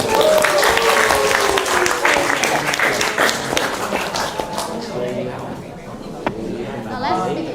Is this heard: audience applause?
yes